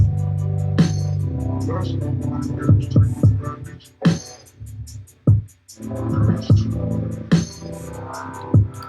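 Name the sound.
overdrive distortion on drum beat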